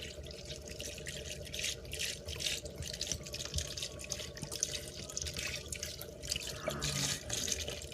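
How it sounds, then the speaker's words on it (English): White wine poured from a bottle into a cooking pot, a steady faint splashing trickle lasting several seconds with a slight gurgle near the end. "So in goes the white wine."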